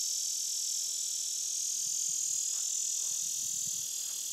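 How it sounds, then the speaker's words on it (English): A loud, continuous high insect buzz holds steady and close for the whole stretch, with only faint scattered low sounds beneath it. "freaking cicada, shut up"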